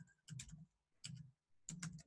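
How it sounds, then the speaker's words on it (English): Quiet keystrokes on a computer keyboard as a website address is typed, arriving in three short bursts of quick clicks separated by brief pauses, close and faint with no talking. "Let me type it in real quick."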